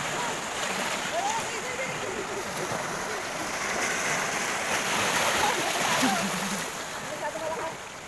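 Ocean waves at Pundaquit Beach in Zambales wash and splash in a steady, broad roar close by, with people talking over the surf throughout.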